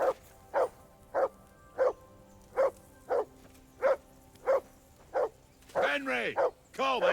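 A dog in the video game Kingdom Come Deliverance 2 barks in a steady, evenly spaced series of about nine loud, close barks, ending with a burst of whining yelps.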